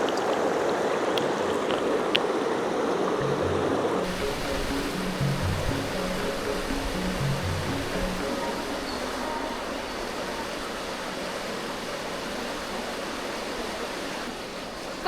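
River water in Birir valley, Chitral, rushes steadily as a continuous broadband wash, close and fairly loud throughout, with a few low thumps near the start and no voices.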